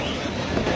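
A sealed 1973 train of Turkish workers rolls steadily on its rails, a loud continuous rumble with a dense clatter of wheels.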